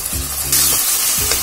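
Ginger garlic paste frying in hot oil: loud, continuous sizzling and crackling with a scrape or two of stirring, heard up close.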